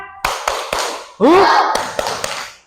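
A classroom does a rhythmic spirit clap, with several sharp, evenly spaced claps, a brief chanted shout in the middle, then more claps.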